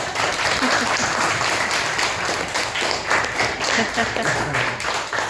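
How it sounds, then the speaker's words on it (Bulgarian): Students and audience at a school meeting with a boxing champion clap together in a steady, dense wash of applause that holds for several seconds at close range. "Ръкопляскаме!"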